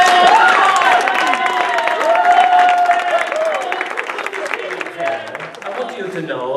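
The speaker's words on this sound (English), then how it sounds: "give a warm round of applause" Loud applause from a crowd, with cheering and voices mixed in, easing slightly toward the end.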